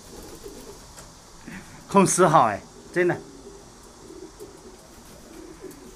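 Pigeons coo in a loft, short rolling calls rising near the middle, faint to moderate, while someone talks.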